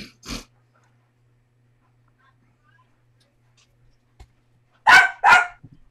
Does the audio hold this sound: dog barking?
yes